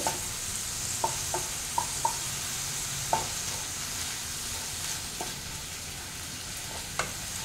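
Ingredients for Hakka noodles frying in a pan at steady medium loudness, a continuous hiss broken by scattered sharp clicks and scrapes of a spoon stirring, no talking.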